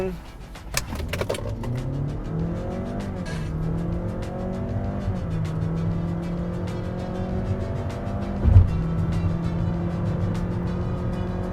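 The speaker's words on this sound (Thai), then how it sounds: "เรามาลอง0ถึงร้อยในโหมดสปอร์ตใ นตัว HRV RS กันนะครับ" A Honda HR-V e:HEV RS hybrid doing a 0-100 sprint in sport mode, heard from inside the cabin: a steady drone that rises in pitch and steps down through several shifts, with a brief thump near the end.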